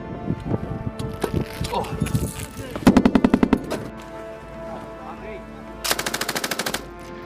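Military weapons fire in bursts: rapid strings of loud shots, one long volley mid-clip and another near the end, with scattered single reports, while people call out commands in between.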